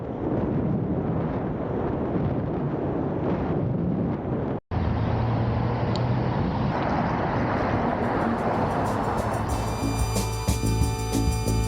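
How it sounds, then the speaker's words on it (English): Steady, loud wind roar buffets the microphone while riding a bicycle, with traffic noise from passing cars partly buried beneath it; a brief dropout occurs midway, and brighter, busier road noise builds toward the end. "Try hearing the cars over the wind."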